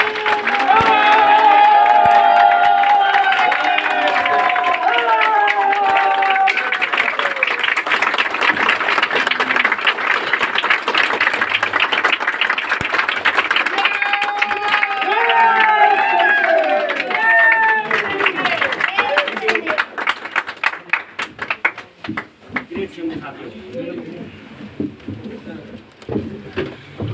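A crowd in an auditorium applauds and cheers a standing ovation for a guest, loud continuous cheering and voices over clapping that thins into scattered claps toward the end.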